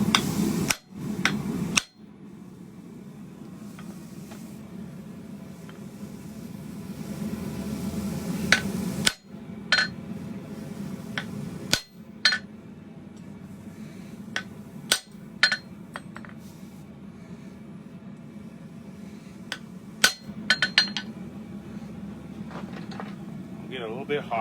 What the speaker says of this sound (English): I can come over with the big hammer and put it on there